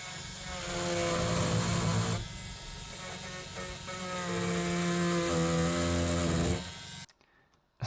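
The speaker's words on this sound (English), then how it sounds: "listen to me cut this deck with the multi-tool here" Oscillating multi-tool fitted with a grout blade cutting into a fiberglass boat deck, a steady buzzing drone for about seven seconds with shifting pitch as the blade works, then stopping abruptly into near silence.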